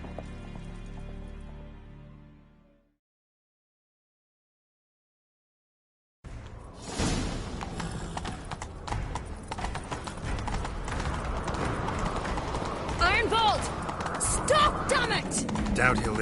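A horse gallops with rapid, rhythmic clip-clop hoofbeats that start after a few seconds of silence and keep up loud and close, following a brief earlier stretch of other sound.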